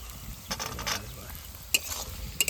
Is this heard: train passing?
no